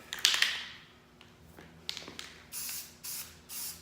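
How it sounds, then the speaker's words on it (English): White primer spray can hissing onto a car part in a garage, several short bursts of spray separated by pauses, with faint clicks and rattles between them. "This is a white primer, so I'm just gonna paint everything white."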